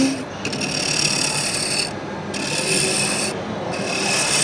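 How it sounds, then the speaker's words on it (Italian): A roughing gouge scraping a wooden spinning top on a wood lathe, a loud, continuous rasping shave with brief breaks where the tool lifts off the spinning wood. "utilizzerò questi attrezzi che si chiamano sgorbie, che sono come delle unghie che gratteranno il legno"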